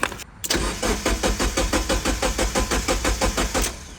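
Engine of an abandoned Mazda Miata cranking over repeatedly in a steady rhythmic chug for several seconds without catching, loud and close, with no talking.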